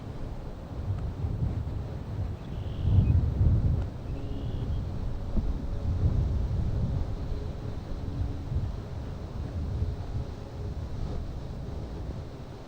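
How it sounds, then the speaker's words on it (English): Wind buffets the microphone on a golf course during a tournament, a continuous low rumbling roar that swells around a few gusts, with no talk. "it seems like the wind's picking up."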